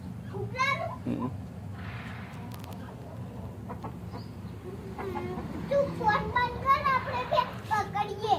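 Children shout and chatter while chasing a chicken chick around a yard, with a few faint clucks and chirps mixed into their excited voices.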